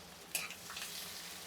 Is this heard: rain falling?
no